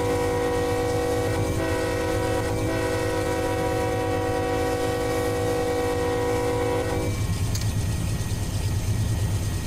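A 28,000-ton coal train laboring up a grade in the Run 8 train simulator, with a sustained horn blast over the constant rumble and rail clatter, the horn cutting off partway through while the rolling noise continues.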